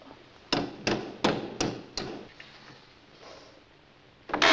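Five sharp hammer blows drive a nail into hard wood in a steady rhythm, close and loud, followed by a pause and one more hit at the end.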